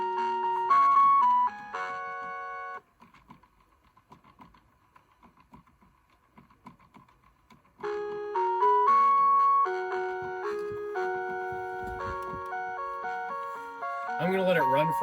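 A Mr. Christmas Around the Carousel music box under repair plays its tinkling mechanical tune loudly, pauses for several seconds of quiet clicking, then resumes the melody.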